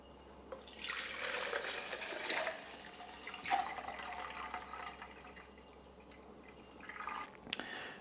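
Homemade limoncello is poured into a 1-liter jug, a soft close trickle and splash of liquid rising and falling in gentle waves, fairly quiet and without talk.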